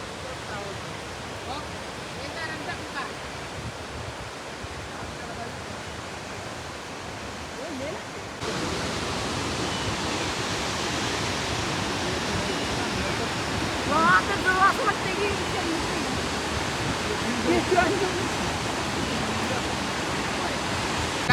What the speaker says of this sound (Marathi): सध्या माझ्या मागं तुम्ही बघू शकताय मांडवकाडा धबधबा